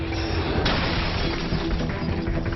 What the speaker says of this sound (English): Try and drive that through this glass.